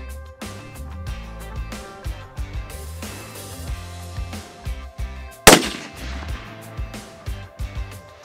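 A centrefire rifle fires once during an Australian rabbit hunt, a single sharp close report cutting through a steady rhythmic low thumping and background noise, with no talk.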